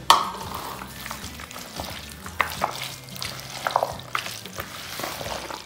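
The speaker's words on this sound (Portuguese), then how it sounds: "A maionese aí vocês vai colocar do gosto de vocês, tá bom? Vou colocar aqui uma quantidade aqui. Vou misturar bem." A spoon stirs pasta salad with mayonnaise in a bowl, giving wet squelching and scraping strokes at close range, with a few louder clinks, and no talking.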